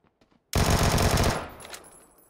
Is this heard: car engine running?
no